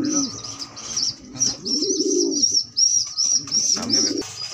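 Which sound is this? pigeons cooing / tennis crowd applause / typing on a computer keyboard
pigeons cooing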